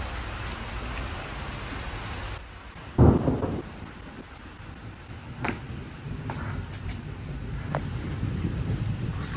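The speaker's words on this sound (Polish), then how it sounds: "Burza jest w ogóle, chodźcie zobaczyć." Steady rain falls through a thunderstorm, with a sharp low thunder crack about a third of the way in followed by continuous rain noise and a few small knocks; no voices.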